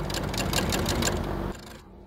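A sewing machine stitches welt piping for upholstery, running in a steady fast mechanical rattle at close range for about a second and a half before the motor cuts out and a quiet tail remains.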